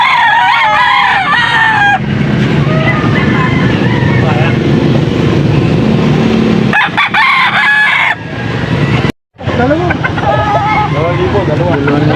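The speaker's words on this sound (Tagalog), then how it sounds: "Stag pa lang mga stag." Young roosters (stags) at a gamefowl sale in Angeles City, Pampanga, crow loudly and repeatedly with clucking in between, all close by, over steady crowd chatter and people talking.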